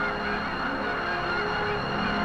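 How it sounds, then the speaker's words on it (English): Canada geese honking in flight over the Mississippi Flyway near Swan Lake, Missouri, a dense steady chorus of calls heard from the air under a constant aircraft drone. "I pass formations of geese traveling southward"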